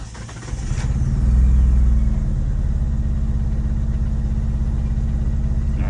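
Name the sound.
2G car engine starting and running rough on a couple cylinders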